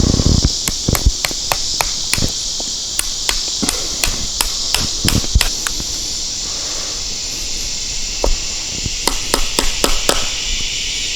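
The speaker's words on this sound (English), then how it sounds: "Need to clear a little bit of that with a chisel to get the fit I want." A chisel driven by hammer blows clears wood to fit a joint while building a backyard pavilion: a long series of sharp, close knocks in an uneven rhythm, with a short pause partway through and a steady hiss behind it.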